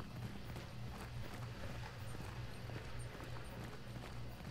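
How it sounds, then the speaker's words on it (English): In the video game Hunt: Showdown at night, horse hooves clip-clop faintly in a steady rhythm beneath a dense, noisy ambient bed, distant and low in level. "Some fire, that's a horse."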